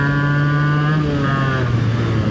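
Yamaha RX motorcycle running on a ride, a loud steady two-stroke engine drone with shifting pitch, close and continuous, with no talking.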